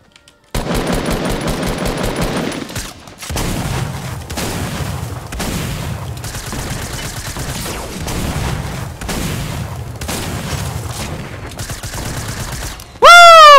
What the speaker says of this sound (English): A firework going everywhere, guys.